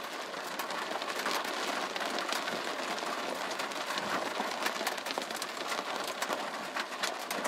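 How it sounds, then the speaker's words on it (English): Rain pours down in a burst during a hail storm, a steady, dense hiss of drops hitting surfaces that holds for several seconds, fairly faint, with no voices. "Got one more burst of rain coming through,"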